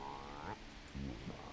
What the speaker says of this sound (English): There are frogs.